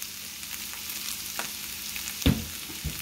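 Meat seasoned with seasoned salt and a spoonful of ketchup sizzles quietly in a pan, a soft steady crackle broken by a couple of sharp utensil knocks near the end, with no talking.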